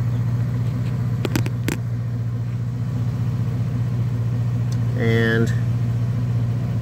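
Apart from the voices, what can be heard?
Jeep engine running, charging the battery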